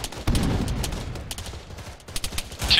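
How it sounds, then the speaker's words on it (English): AK rifle gunfire from the east, a run of dull rapid shots at moderate distance with steady ambient noise between the reports. "be advised, I'm hearing AK shots to the east."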